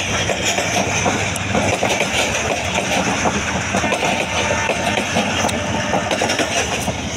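The Attock Passenger train rolls along the rails close by, loud and continuous, with an engine drone and rhythmic clickety-clack of wagons over the track.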